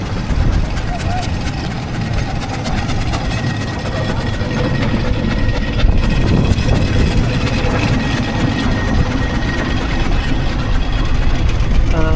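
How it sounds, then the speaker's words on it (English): Steam traction engines idle and move around a show arena at Parham Park, a continuous loud low rumble and chuffing with mechanical clatter throughout, steady and close for the whole stretch. "if all the steam engines want to come back to the commentary box side of the arena"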